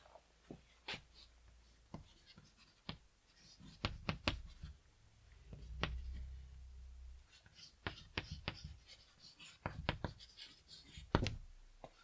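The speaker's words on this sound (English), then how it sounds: "Then let me write a sentence here for you." Chalk taps and scratches on a board as a sentence is written in a classroom, in a series of quick, irregular strokes and clicks, moderately close, with a soft voice now and then.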